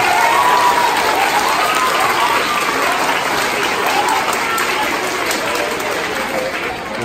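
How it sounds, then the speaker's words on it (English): An audience applauds at a school winter concert, giving a sustained, dense round of clapping that stays loud throughout before easing slightly at the end. "Let's give him a round of applause."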